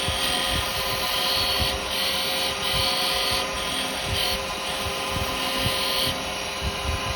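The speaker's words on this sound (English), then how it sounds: "here you can get some lovely little shear cutting going on" A woodturning lathe spins a natural-edge yew bird house while a carbide chisel makes a shear cut, giving a steady whining hum with a scraping hiss that swells and eases in repeated passes.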